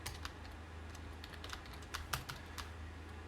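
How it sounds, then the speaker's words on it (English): Fingers typing on a computer keyboard in rapid, uneven bursts of crisp key clicks, fairly close and quiet, with brief pauses between runs of keystrokes and no voices. "Hold on, let me type this out."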